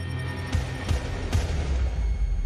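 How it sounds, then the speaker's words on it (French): Three sharp gunshots ring out on a university campus in the early morning, spaced under half a second apart, cracking over a steady background rumble. "Des coups de feu."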